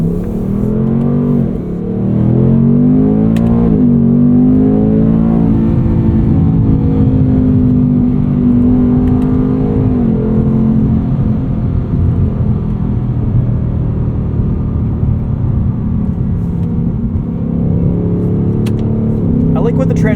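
A 2024 Ford Mustang GT Coupe Premium's engine revs and drones steadily while its 10-speed automatic shifts through the gears in manual mode, with pitch rising and falling across repeated shifts. Loud, continuous, and heard from inside the cabin, with talk over it.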